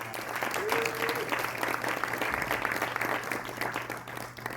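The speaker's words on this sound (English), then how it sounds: "I think that everybody just deserve a round of applause" An audience claps at the close of a tech event, with sustained applause filling the room at a steady level for the whole stretch and a low hum underneath.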